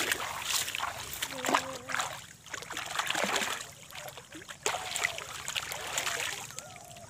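Water splashes and trickles as someone bathes in shallow water in a village, with choppy bursts of splashing rising and falling under voices talking outdoors.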